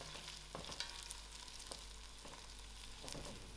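Lamb noodle sauce with thyme being stirred in a pan: a steady soft sizzle runs throughout, with a few faint scrapes and taps of the utensil against the pan.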